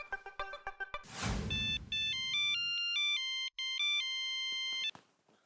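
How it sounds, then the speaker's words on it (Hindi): A phone ringtone plays a repeating electronic melody, loud and close, after a brief burst of other tones at the start. "मैं अभी फोन करता हूँ, पहले हाथी भाई को ही फोन कर लेता हूँ।"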